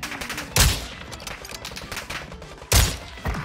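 Sniper rifle fire from the FJX Imperium or SP-X 80 in the video game Warzone 2. Two loud, sharp shots about two seconds apart cut through a low bed of game ambience.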